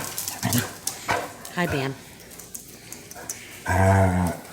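Basset hound puppies play indoors, giving short yips, whimpers and small barks in scattered bursts, with one longer whine near the end; a person speaks softly over them.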